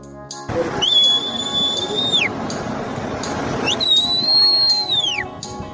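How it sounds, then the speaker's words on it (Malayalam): A man whistles two long, steady, high-pitched blasts to call kites at a beach, each lasting over a second and bending down at the end, separated by a pause over outdoor ambience. "ആ ഒരു വിസിലിൻ്റെ ശബ്ദം കേട്ട ഉടനെ ആയിരക്കണക്കിന് പരുന്തുകളാണ് വട്ടമിട്ട്"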